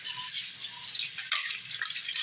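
Laundry is rinsed by hand in a basin as water splashes and sloshes close by, with choppy irregular swishes and one sharper splash near the middle.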